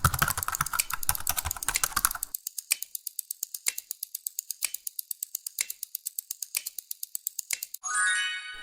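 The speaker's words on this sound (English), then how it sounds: "It was someone typing on a keyboard." Someone types on a computer keyboard, first in a fast dense burst of key clicks, then in evenly spaced, crisp single taps close to the listener, ending with a short rising chime.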